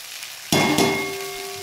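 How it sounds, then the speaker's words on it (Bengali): Drumstick flowers tossed into a pan of half-cooked peas, a sudden loud burst of sizzling as they hit the oil, then a steady frying hiss that slowly eases. "তো এবার আমি এর মধ্যে দিয়ে দেব সজনে ফুল।"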